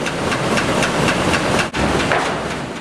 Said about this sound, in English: All the sawdust waste from the sawmill line is sifted by this screening machine into different sizes.